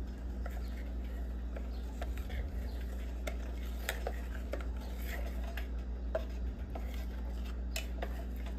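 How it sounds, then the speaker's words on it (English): A jackfruit dish is stirred and mixed in a pot, with soft scraping and scattered clinks of a utensil against the pot over a low steady hum, fairly quiet and without voices. "just like that, and mix it. See it getting mixed."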